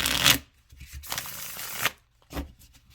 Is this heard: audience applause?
no